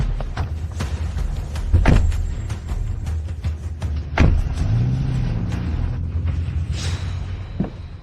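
A car at close range with engine rumble running throughout, a thud like a door shutting near the two-second mark and another around four seconds, plus faint mechanical clicks; nobody speaks.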